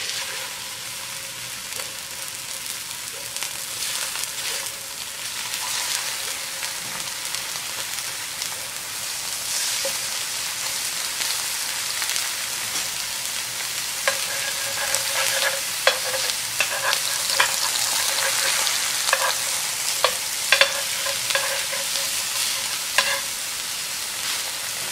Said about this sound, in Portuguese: E agora vamos colocar aí o nosso bife.